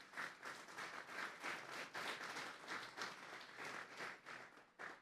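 A church congregation applauds the Lord during a sermon on Psalm 18, a steady, moderately distant wash of many hands clapping that swells and dips in waves for several seconds.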